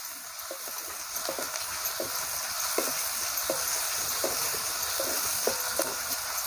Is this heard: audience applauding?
no